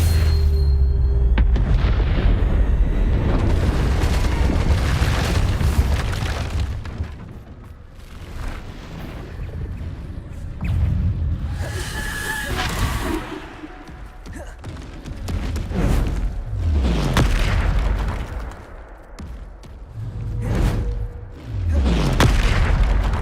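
Bombarda spell explosions in the Hogwarts Legacy video game go off again and again as loud, deep booms with rumbling tails, separated by short quieter gaps.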